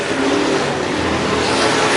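Race cars at a night qualifying event roaring down the back straightaway, a loud steady engine drone filling the short span without a clear pass-by peak.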